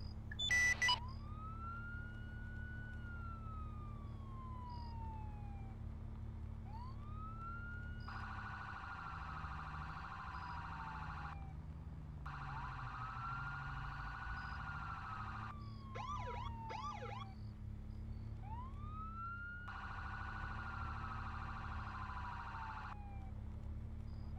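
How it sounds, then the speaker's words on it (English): A police car siren sounds in the ArmA 3 video game. It alternates between a rising wail and fast yelp and hi-lo bursts, running steadily and fairly loud over a low engine drone, with no voices. "I've not heard the sound of a siren for a long time"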